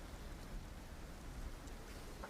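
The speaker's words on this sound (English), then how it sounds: "the rain, you can hear just tink, tink, tink, tink off of that armor" Steady rain patters on armour, RPG-style, as a faint, constant hiss of drops with no distinct strikes and no talk.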